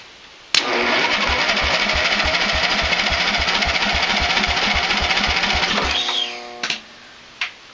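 An old tractor engine cranks over on its starter, a loud steady rhythmic chugging that runs for about five seconds without catching, then cuts off and leaves a few short mechanical clanks.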